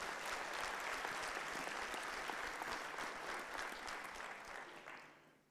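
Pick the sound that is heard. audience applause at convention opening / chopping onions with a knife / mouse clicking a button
audience applause at convention opening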